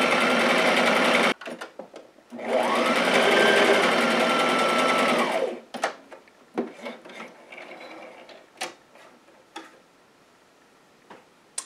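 A sewing machine runs long gathering stitches on a dress. One short burst is followed by a steady whir lasting about three seconds, then soft fabric handling and a few faint clicks.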